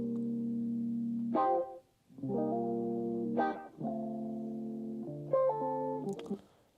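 Dry, unprocessed electric guitar track soloed from a mix, playing sustained chords with clear harmonic tones, changing about every second with brief gaps and bright pick attacks, steady and loud with no talk.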